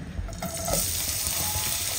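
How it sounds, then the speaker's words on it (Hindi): Chopped onions, two small ones, going into hot oil for a tadka while making golgappe at home, giving a steady close sizzle and hiss of frying that holds throughout with no talking. "तेल हमारा गर्म हो गया है, अब इसके अंदर हम डालेंगे प्याज"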